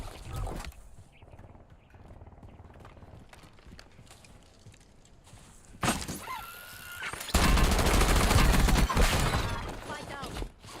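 Gunfire in the Black Ops battle royale game: scattered sharp shots and impacts at first, then a loud dense burst of rapid automatic fire near the end, with game noises around it.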